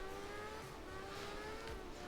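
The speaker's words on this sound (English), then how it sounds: "Did your car spin out, or is it just you just turn really slowly?" A rally car engine in the game art of rally whines at a steady high pitch, with faint tire noise, as the car spins out on ice.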